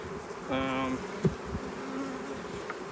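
Honey bees buzzing around a beehive, one loud humming pass close by over a steady background drone of the colony, with a few faint knocks.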